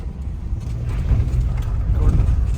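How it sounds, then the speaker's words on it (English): A Ram 2500 pickup truck fitted with Carbon Shocks rumbles along a street on a test drive, its engine and road noise steady and close inside the cab. "Let's go for a test drive."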